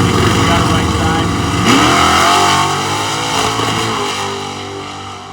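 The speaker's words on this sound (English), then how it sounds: "you can hear Opal car jump out of gear at the top end" A drag racing car at Hot Rod Drag Week roars loudly at full throttle, its pitch rising and then wavering as it jumps out of gear at the top end, the engine noise fading slightly as it moves away.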